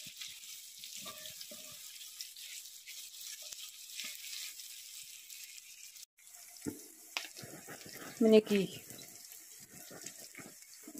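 Meat and onion fry in a pan with a soft, steady hiss and faint crackle, while a person briefly speaks near the end.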